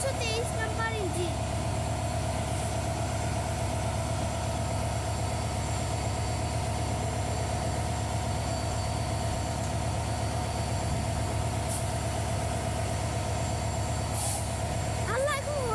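Diesel train locomotive number 323 idling at busy Chittagong railway station, a steady deep engine drone with a sustained mechanical hum and brief hissing bursts, people chatting nearby over it.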